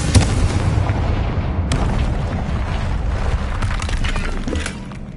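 Repeated fire-spell blasts from the Confringo charm in Hogwarts Legacy, loud booming explosions layered with crackling debris, a dense continuous barrage with no one talking.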